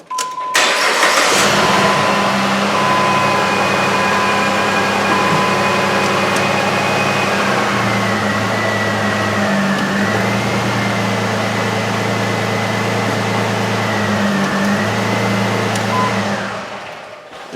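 A Jeep Liberty engine cranks briefly, starts, and settles into a steady, loud idle nearby, with the engine note stepping up and down in pitch a few times before it shuts off.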